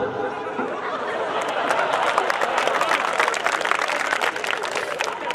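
Applause and scattered laughter from an audience at a Hindi kavi sammelan poetry gathering in Bhinmal, a dense, steady clatter of clapping that stays loud and even throughout.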